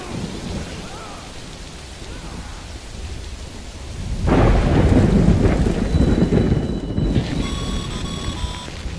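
Heavy rain and a rolling thunder rumble in a video game, steady downpour swelling loudly midway with a long crash, followed by faint electronic beeping tones.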